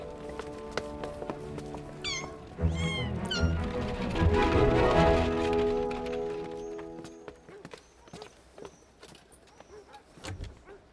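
Several cats meow in short, rising cries over a busy background of clattering and hoofbeat-like clopping, with occasional voices.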